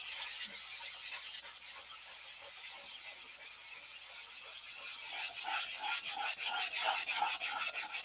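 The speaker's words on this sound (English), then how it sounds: "I'm sanding all the high spots, low spots out of it" Hand sanding of the clear nose glass on a P-47 model, an abrasive rub over the canopy in steady repeated strokes that grow louder and more rhythmic toward the end, close up with no voices.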